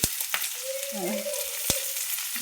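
Chopped onion pieces sizzle in a pan for an eggplant, sweet corn and egg curry, a steady broadband frying hiss with a few sharp crackles and a faint tonal hum in the background.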